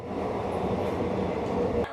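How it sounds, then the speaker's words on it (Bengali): The Hoshiarpur–Agra Cantonment Express pulls into a station with a steady, loud rumble of rolling wheels and carriages, close by and without voices. "আমাদের ট্রেন ঢুকছে হোশিয়ারপুর আগ্রা ক্যান্টনমেন্ট এক্সপ্রেস"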